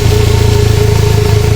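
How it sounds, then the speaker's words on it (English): A car engine idles steadily with a repaired, previously badly rusted exhaust, giving a continuous close low rumble with an even pulsing throb throughout. "so that's the repaired exhaust running"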